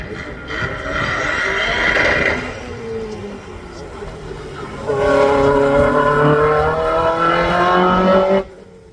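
A little Fiat X19 race car launches from the line at the Craigantlet hillclimb, its engine revving hard through rising gear pulls, loud and close, then fading as a second strong surge of acceleration follows.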